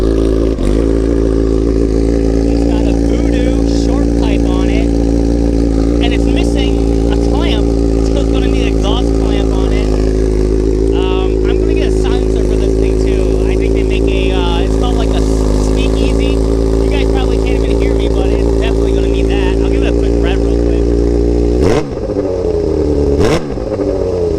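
Yamaha R1 1000 motorcycle idling with a loud aftermarket exhaust, a deep steady rumble throughout with a couple of sharp throttle blips near the end, talking faintly underneath.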